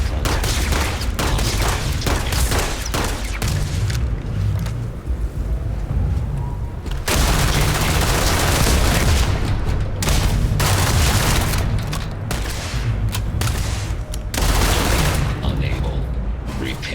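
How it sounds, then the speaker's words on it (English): Enemies fire weapons during a Starfield combat encounter, with dense continuous gunfire and heavy booming blasts roaring loudly throughout and only brief dips in intensity. "there's enemies shooting at me here."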